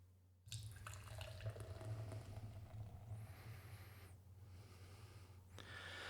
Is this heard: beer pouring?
yes